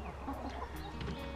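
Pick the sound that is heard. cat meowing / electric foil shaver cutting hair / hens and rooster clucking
hens and rooster clucking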